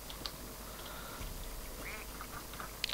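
A cartoonish duck quack from the platform game Rayman Legends sounds over steady game background music, with a couple of short quacks near and clear toward the end.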